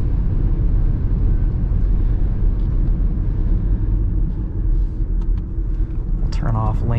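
Tire and road roar from a 2021 Ford Mustang Mach-E driven hard, a loud steady low rumble that fills the cabin and carries without break.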